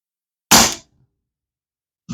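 A quiet air rifle (RCO De Masculator) fires C.P.H.P pellets from Spain: one sharp, fairly loud shot pops and decays quickly, then a second shot begins near the end, with no talking.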